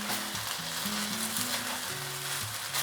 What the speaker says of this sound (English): So I'm just going to caramelize the sauce on the side for a little bit for that extra smoky flavor.